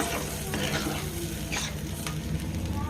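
Spicy amudi fish jhal with water just added bubbles and sizzles in a pan, a continuous close frying hiss overlaid with soft scraping strokes of stirring throughout.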